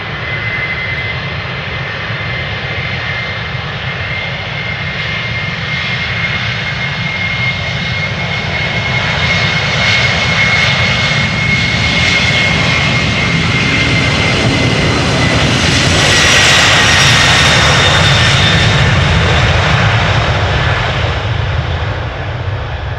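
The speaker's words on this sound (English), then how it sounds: "Atlas Air also spooling up already, diverted to Amsterdam, on its way from Poznan to Houston." Atlas Air jet, diverted into Amsterdam Schiphol on a Poznan to Houston flight, spools up its engines: a loud, steady broadband roar that builds and swells toward the end, with a thin whine running through it and no voices.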